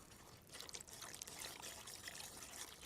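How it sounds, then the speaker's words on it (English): Wet waffle batter ingredients are poured into a bowl of dry ingredients in a home kitchen, giving a soft, steady, quiet splashing trickle that runs throughout without talk. "now it's just a case of pouring the wet ingredients into the dry"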